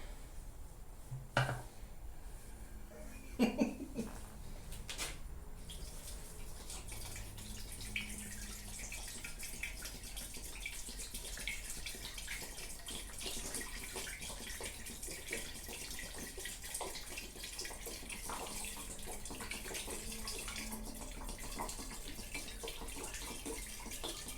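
Water poured into the housing of a Yanmar YDP20N single-cylinder diesel pump with the drain plug in, a steady close splashing wash running throughout after a couple of brief knocks at the start.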